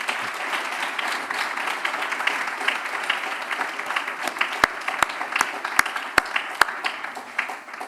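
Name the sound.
audience applause at a graduation ceremony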